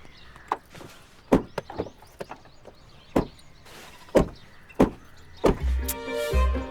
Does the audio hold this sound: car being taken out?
yes